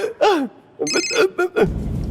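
Telephone ringing in a Hindi movie scene, a short bright warbling ring in two bursts, loud and close, with no talk over it.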